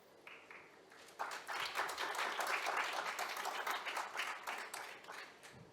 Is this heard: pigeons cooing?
no